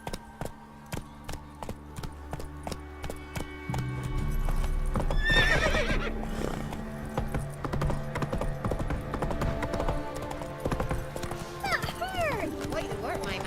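Horse hooves clip-clopping at a gallop in The Witcher 3, a steady rhythmic beat with the horse whinnying and game music and effects layered over it.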